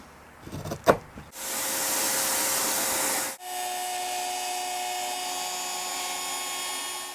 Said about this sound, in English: Now I'll shave these points off like I always do with the chisel before we go to the router with this thing.